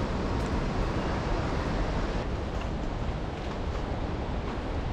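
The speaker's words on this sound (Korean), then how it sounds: "여기 와서 이 어마어마한 협곡의 물소리를 들으니까" Rushing river water in the vast Langtang Valley canyon of the Himalaya, a dense, continuous roar of churning flow filling the scene evenly, with no voices or breaks.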